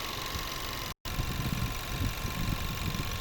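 A 2018 Buick Cascada 1.6 turbo petrol engine with automatic transmission idles with a smooth, steady low rumble, continuous apart from a brief silent dropout near the start, with no voices.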